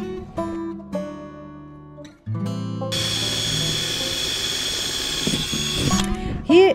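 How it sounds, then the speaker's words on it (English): A power drill bores holes in a wooden panel ahead of jigsaw cutting, short whirring starts followed by a long steady high-pitched whine, loud and close, with a few softer motor bursts at the beginning. "Here you can see me preparing all the holes so I can have a good start for my jigsaw"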